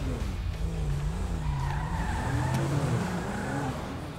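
An Audi-style car in the video game GTA V skids and revs, tires squealing in sweeping rising and falling tones over a steady engine rumble, close and prominent throughout.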